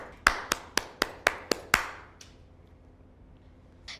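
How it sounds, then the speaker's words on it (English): Seven sharp hand claps in a steady rhythm, fairly close and loud, as a teacher claps for a group game. Quiet room tone follows, with one faint knock near the end. "Okay, I'm beginning to clap again."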